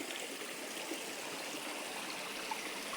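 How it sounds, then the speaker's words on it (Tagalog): A small waterfall in a rocky stream gives a continuous, even rush of splashing water, steady and fairly close, with no voices. "Mayroong maliit na waterfalls."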